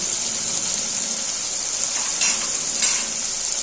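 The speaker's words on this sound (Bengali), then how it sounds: "তো মশলাটা ভাজা হচ্ছে তো এর মধ্যেই আমি এবার আদা বাটা দিয়ে দেব" A spice mixture fries in a pan for a Bengali eggplant and bitter gourd dish, a steady close sizzle with two faint stirring scrapes and no talking.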